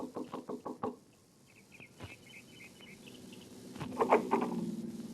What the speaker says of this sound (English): knocked at the door of a small house 15 minutes after she arrived home that evening